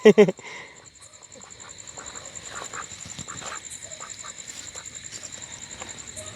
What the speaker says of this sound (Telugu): ఈ బాతులు మన నాటు బాతులు